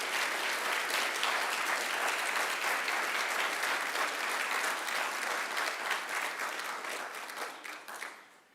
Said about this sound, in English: Can you please give them a mighty round of applause as well?